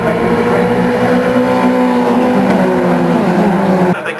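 Race cars at Knockhill roar past the pits in a loud, continuous engine drone with overlapping pitches shifting as they go by, ending abruptly as the sound drops away.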